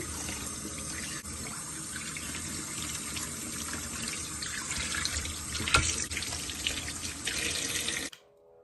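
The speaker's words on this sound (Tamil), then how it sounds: "நல்ல குளிர் தண்ணியில் கழுவுவோம்" Mackerel being washed under a running cold-water kitchen tap, a steady close splashing stream that stops abruptly near the end.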